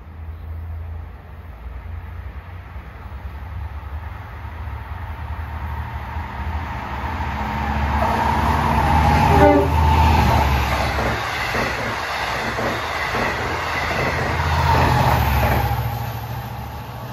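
A Long Island Rail Road diesel train bound for Montauk rolls through Merillon Avenue station, a deep engine rumble swelling as it passes close by with rhythmic wheel clatter, then easing off.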